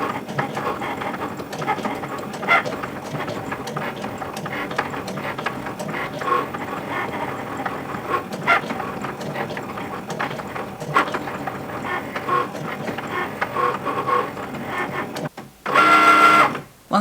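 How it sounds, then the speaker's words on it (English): A Cricut machine drawing on fabric with a pen, a steady, moderate mechanical whirring and buzzing with small clicks from the moving carriage, ending in a louder short motor burst. "Now we're ready to click the flashing Cricut button on our machine and start drawing."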